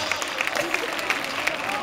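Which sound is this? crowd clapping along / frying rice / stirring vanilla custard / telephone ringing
crowd clapping along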